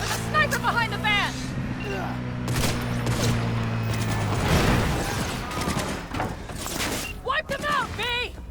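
Sniper and other gunfire in the video game Cyberpunk 2077, loud sharp shots and bursts cracking out over busy in-game combat noise and an engine drone, with voices talking over it.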